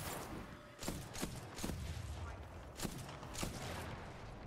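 Titanfall 2 gunfire rings out as a scattered volley of about six or seven sharp shots, irregularly spaced, faint and somewhat distant over a steady background wash.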